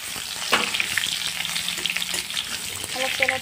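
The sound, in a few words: potatoes frying in hot mustard oil in a wok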